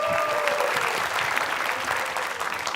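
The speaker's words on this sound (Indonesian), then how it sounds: "Oke, kita kasih tepuk tangan lagi." A studio audience at an Indonesian TV comedy show claps steadily for nearly three seconds, dense, even applause with a few brief whistle-like tones near the start.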